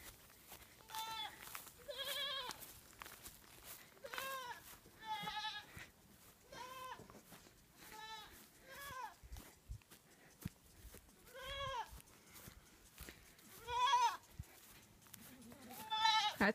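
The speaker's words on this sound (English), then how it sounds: "And there's the goats up there." Goats on a farm bleat again and again, about a dozen wavering calls spaced every second or two against a quiet outdoor background, some close and others a little farther off.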